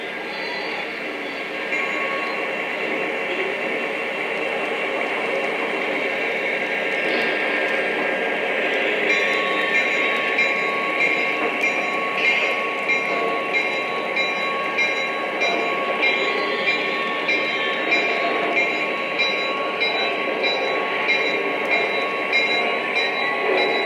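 Model train pulling auto rack cars, a steady close rolling rumble with a faint whine and light rhythmic clicking of wheels over track joints.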